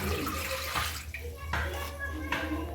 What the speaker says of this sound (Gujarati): હવે આપણે 2 ગ્લાસ પાણી નાખશું।